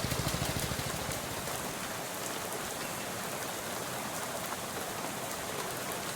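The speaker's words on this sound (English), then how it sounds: "it's raining" Steady heavy rain pours in the game Shadows Over Loathing, a dense, even hiss of drops on surfaces with a low rumble beneath, constant and close with no voices.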